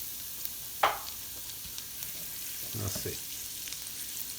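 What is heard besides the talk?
garlic and butter frying in a pan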